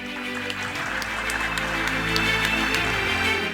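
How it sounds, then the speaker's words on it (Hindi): An audience applauds at a Corona Warriors honour and volunteers award ceremony, sustained clapping that builds slightly and holds steady, with a low hum beneath. "आप सभी से निवेदन है कि इस माहौल को और तालियों से गूंज दें"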